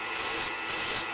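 Cooking spray hisses onto a cheesecake pan in two short bursts, loud and close, with no talk.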